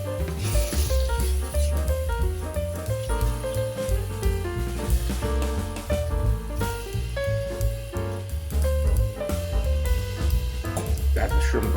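Raw shrimp go into a hot curry skillet and sizzle and crackle steadily for the whole stretch, with a fairly loud fry under prominent music.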